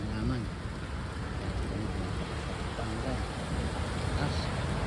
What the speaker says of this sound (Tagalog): Ulan, nabasa ang kalsada.